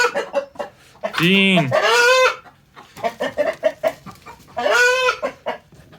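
A hen clucks loudly and nearby with a couple of drawn-out squawking calls, while someone talks over and between them.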